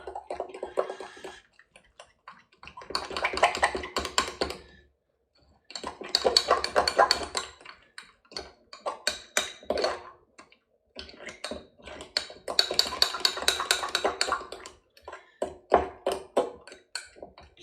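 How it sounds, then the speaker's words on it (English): Keto bread batter with baking powder being stirred in a bowl: repeated bursts of scraping and clinking from a utensil against the dish, separated by short quiet pauses. "give that a good old mix around"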